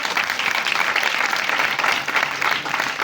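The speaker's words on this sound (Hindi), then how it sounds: "अपने अपने लिए ताली बजाएं।" A church congregation claps for itself during a worship service, a dense, even burst of applause lasting a few seconds with no talking over it.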